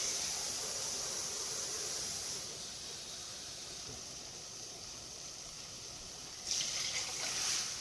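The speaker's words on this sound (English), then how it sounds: "I'm going to add a can of water" Water from a can poured into a pot of canned peas and their liquid on a stovetop, a steady rushing pour that eases slightly midway and ends with a brighter splash near the end.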